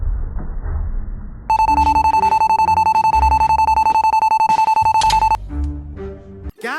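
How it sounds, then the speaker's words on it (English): An electronic fire alarm rings at a school, a loud rapid pulsing tone with a shrill repeating beat that starts abruptly after some rumbling, holds for several seconds, then cuts out as voices and clatter follow. "I'm gonna pull the fire alarm."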